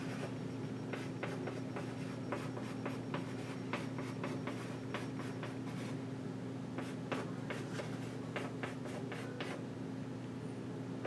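Handwriting on a surface during a fractions lesson, heard as quiet, close scratchy strokes in short bursts with brief pauses between, over a faint steady low hum.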